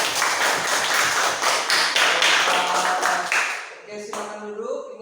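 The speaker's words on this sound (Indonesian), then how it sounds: "Kita kasih tepuk tangan." A classroom of children clap their hands in a rhythmic patterned sequence, loud and close, then the clapping stops and a few voices and stray sounds follow.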